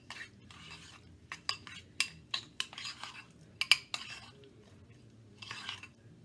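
Deviled egg filling being mixed in a bowl: a quiet run of sharp utensil clicks and scrapes against the bowl in uneven bursts, with a pause before a final cluster of stirring.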